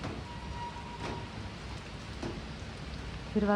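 Steady monsoon rain falls continuously on a hillside, a dense hiss of drops with no talking, even in loudness from start to finish.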